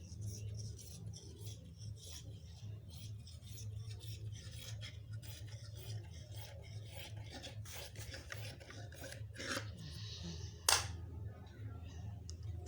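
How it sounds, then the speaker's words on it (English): Scissors trimming folded fabric while a simple off-shoulder gown is cut out, a steady soft rasping and rubbing that runs throughout and ends in one sharp snip near the close. "We're going to trim it out."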